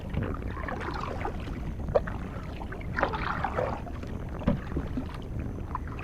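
A sleek Falcon 11 kayak glides through calm water, with soft, rhythmic paddle strokes dipping and dripping at intervals over light wind noise.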